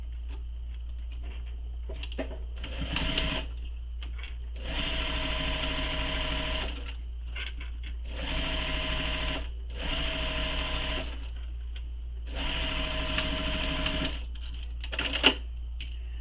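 A sewing machine sews the bottom of a shoulder bag closed along the seam allowance, running in four steady bursts of a few seconds each, separated by brief pauses, close and clear with no talk.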